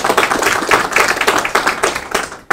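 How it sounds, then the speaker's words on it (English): Staff at a university address clap for the graduates, loud, close, uneven handclaps in a quick stream that cut off sharply at the end. "I request the staff with me here this morning to clap for you."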